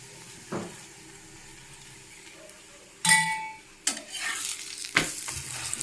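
Spinach (palak) thepla cooking in oil on a flat pan, with a soft sizzle that rises after a few seconds, accompanied by scraping and clinking of a spatula against the pan. No one speaks.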